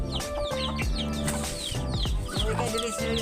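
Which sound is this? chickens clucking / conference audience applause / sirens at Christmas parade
chickens clucking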